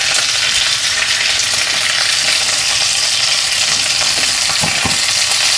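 Curry leaves and dried red chillies frying in hot oil, a loud, steady, close sizzle and crackle with occasional stirring scrapes, continuous throughout with no talking.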